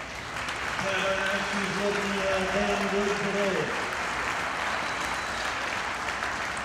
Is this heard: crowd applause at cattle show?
yes